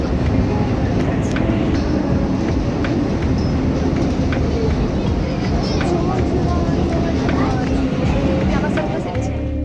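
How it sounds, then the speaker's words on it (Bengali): A Kolkata metro train rolls along with a constant loud rumble and rattle throughout, some voices faintly mixed into the din. "এটা মেট্রো"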